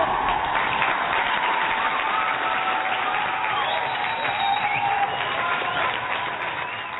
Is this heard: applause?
yes